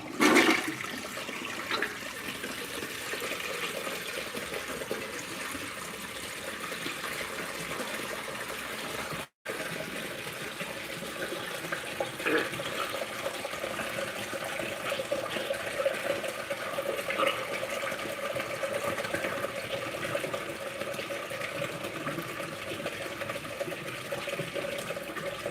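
A siphon jet toilet flushing, a long steady rush of water with gurgling and trickling as the tank refills, continuing for over twenty seconds at moderate level with a brief cut partway through, no talk.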